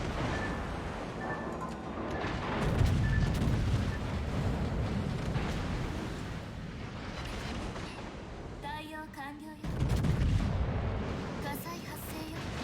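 Heavy battleship main-gun salvos in World of Warships aboard a Montana, deep booming rumbles over a constant roar of sea and engine noise, with a player talking over the game sound.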